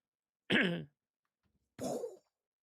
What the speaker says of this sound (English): you sit down, and you go, clear your throat